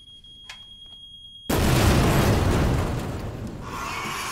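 A detonator goes off in Resident Evil 2 Remake. A short, high electronic beeping comes first over near silence, then a sudden loud blast bursts in and settles into a long roaring rumble.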